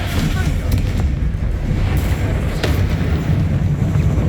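Spell explosions from the Confringo fire spell in the Hogwarts Legacy video game boom with heavy low rumble and sharp cracking bursts, repeated in quick succession amid loud battle effects.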